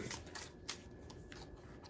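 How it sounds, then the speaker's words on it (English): Pokémon trading cards are riffled and shuffled back into a deck by hand, with a quick run of soft papery flicks and snaps, close and quiet against faint room noise. "I shuffle those back into my deck"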